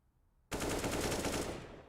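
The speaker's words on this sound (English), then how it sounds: "Badger also picks up an AK." Sustained automatic AK rifle fire from an esports first-person shooter match, a loud, sudden burst starting abruptly and continuing as rapid rattling shots for about a second and a half before easing slightly.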